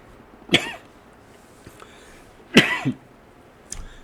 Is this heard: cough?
yes